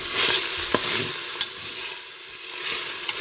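Peppers being stirred in a Cookeo electric pot, a soft steady sizzle with a few distinct scrapes of the utensil against the pot, close and moderately quiet, no voices.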